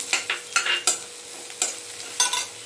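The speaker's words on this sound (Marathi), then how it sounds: "आता आपण मिरच्या ॲड करूया" Green chillies tossed into onions frying in oil, stirred with a utensil: bright sizzling crackle with several sharp spatula scrapes and clinks against the pan, close and clear, no voices.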